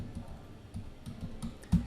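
Soft keyboard typing, a run of light key clicks at an irregular pace, ending with one sharper, louder keystroke.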